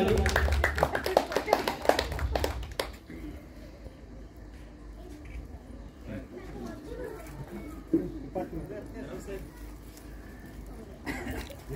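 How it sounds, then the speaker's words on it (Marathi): Applause at a birthday gathering, as a crowd claps in a dense burst for the first few seconds before fading into quieter scattered claps and a murmur of voices. "टाळ्या वाजवायच्या सर्वांनी."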